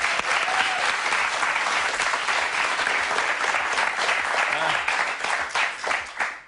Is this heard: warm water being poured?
no